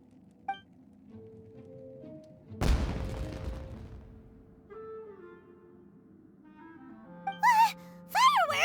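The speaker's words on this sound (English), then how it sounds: "It sounded like fireworks." A single deep, booming firework burst from Kamisato Ayaka's scene in Genshin Impact, with a loud broadband crack and rumbling tail, set among quiet game music tones and brief character vocal sounds.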